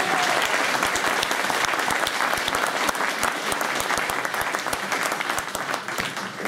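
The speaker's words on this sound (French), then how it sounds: "vous pouvez les applaudir" An audience at a political meeting in Paris applauds. Dense, steady clapping from many hands fills the room throughout and fades slightly toward the end.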